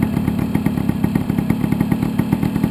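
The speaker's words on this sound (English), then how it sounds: "I'm trying to listen to the idle sound so I can hear it compared to how everybody else is sounding" Tomos LX moped engine idling close and loud, a steady rapid putter with an even, slightly clattery rhythm and no talking.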